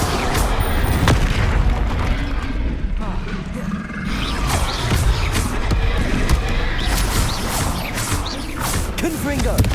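Bombarda and Confringo spell blasts pound away in a Hogwarts Legacy battle on hard difficulty, loud booming explosions with mechanical clatter repeating densely throughout, overlaid by a voice shouting.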